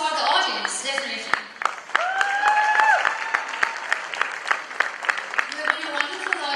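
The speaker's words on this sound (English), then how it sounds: "And one more applause for the audience" Audience applause at the close of a stage show honoring heroes, steady dense clapping filling the hall with sharp individual claps and a brief whistle, continuing under a host's voice speaking over it.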